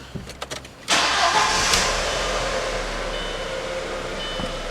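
A car engine cranks briefly, catches with a loud roar, then settles into a steady idle close by.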